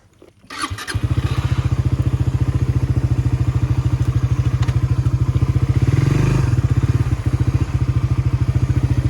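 A Suzuki GSX-R sportbike engine starts with a thump and settles into a loud, close, rapid pulsing idle, the beat steady throughout with a brief swell of revs near the end.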